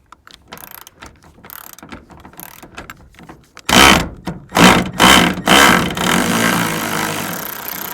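A ratchet loosens a T50 Torx bolt inside a GM OBS regular cab Chevy or GMC truck cab, giving a few loud, close bursts of rapid clicking after quieter handling noises and rustling.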